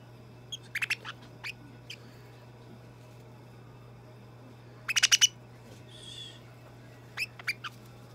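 Pet budgerigar giving short bright chirps in scattered bursts, a quick cluster near the start, a louder run in the middle and a few more at the end, heard close over a steady low electrical hum with no talking.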